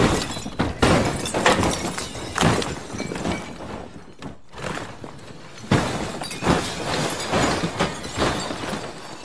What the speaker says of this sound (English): we loaded it up with crockery and things that can smash